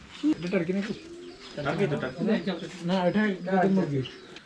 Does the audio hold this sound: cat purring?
no